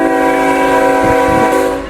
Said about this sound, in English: hit the bell and sound the horn